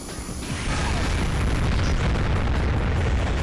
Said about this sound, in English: Bunch of explosions.